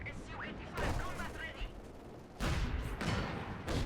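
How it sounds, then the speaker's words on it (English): A German propaganda artillery barrage in Company of Heroes 2, with sharp shell impacts in rapid bursts over a steady battle din, with talking over the top. "See the propaganda artillery coming in as well."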